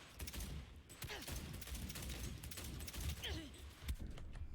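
Video game gunfire in Cyberpunk 2077 crackles in quick bursts of shots, fairly quiet and somewhat distant-sounding, mixed with game noise and a faint voice in the background.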